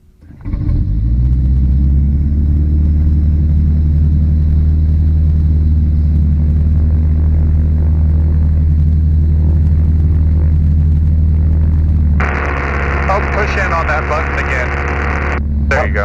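A gyroplane engine cranks and catches, then settles into a steady loud propeller drone with deep rumble; near the end the prop noise brightens and a voice talks briefly over it.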